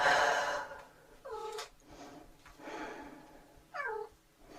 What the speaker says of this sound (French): on écoute mon chat qui est en train de chanter